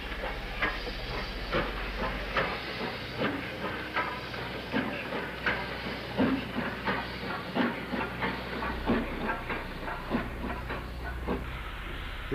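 Steam locomotive 44963, a 9F, shunting in a railway yard gives off a steady hiss of steam with rhythmic chuffing beats and clanking, close and fairly loud, with no voices.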